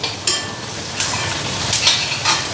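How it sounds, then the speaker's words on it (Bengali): Ginger and garlic frying in a pan with onion, a steady close sizzle throughout, broken by several stirring scrapes of a utensil against the pan, with no voices. "এই যে আদা রসুন এটাও একটু ফ্রাই করে নিই"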